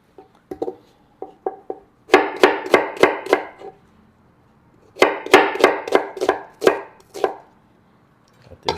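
A knife chops an onion on a cutting board while cooking Jamaican roast fish: a few light taps, then two fast runs of crisp, close chops separated by a short pause.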